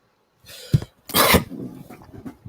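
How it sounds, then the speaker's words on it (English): A person coughs over a phone or online call, with a short cough followed by a harsher, longer burst of coughing and throat clearing, heard alone and close. "He's coughing."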